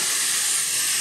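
Water boiling on an alcohol stove beside a lake gives off a steady, loud hiss of steam with no break.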